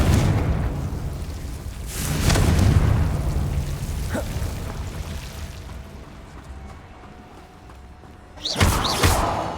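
A Confringo spell blast in a video game goes off as a loud booming burst, rumbling through the opening seconds, with a second sharp explosive hit near the end.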